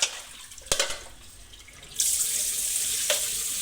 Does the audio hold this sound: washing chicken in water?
yes